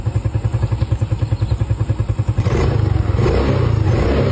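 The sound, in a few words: motorcycle engine revving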